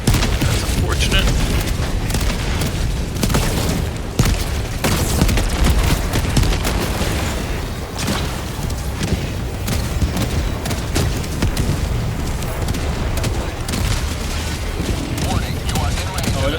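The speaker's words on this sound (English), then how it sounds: "Range of enemy artillery." Enemy artillery pounding in the video game Helldivers 2: a loud, continuous barrage of booms and rapid gunfire crackle that never lets up, with a voice talking over the battle.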